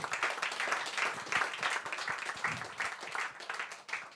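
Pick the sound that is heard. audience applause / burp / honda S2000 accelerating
audience applause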